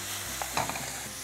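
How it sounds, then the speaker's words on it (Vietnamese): Beef fillet with minced garlic stir-frying in a pan of cooking oil, a soft steady sizzle with a few brief stirring scrapes and clatters, close and fairly quiet with no talking. "Tiếp tục cho vào chảo này là khoảng 2 muỗng canh dầu ăn để chúng ta xào cái phần phi lê bò này."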